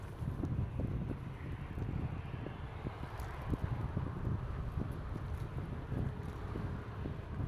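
Strong wind buffets the microphone during a relaxed ride on a Kukirin electric scooter, a continuous low rumbling roar with gusty thumps that never lets up for the whole stretch.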